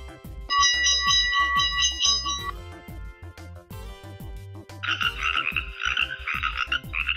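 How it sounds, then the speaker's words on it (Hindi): A frog croaks in short, repeated bursts with a pulsing, bouncy rhythm, loud and close, while bright ringing bell tones sound in two separate stretches alongside it. "ये मेंढक की आवाज है।"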